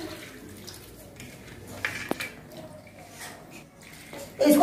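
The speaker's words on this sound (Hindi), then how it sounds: "तो दो पानी अच्छे से इसको हम धो ले रहे हैं" Broad beans (bakla) being washed in water: soft splashing, sloshing and dripping with a few sharp clinks of a vessel, fairly close and quiet, ending in a louder splash.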